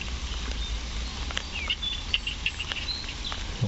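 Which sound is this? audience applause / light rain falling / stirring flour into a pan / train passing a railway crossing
light rain falling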